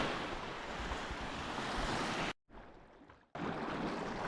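Mediterranean Sea waves wash onto the shore at Kemer, Turkey, a steady roar of surf mixed with wind buffeting the microphone, broken by a sudden brief dropout before resuming.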